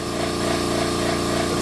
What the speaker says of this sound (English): This is what they call a flap wheel.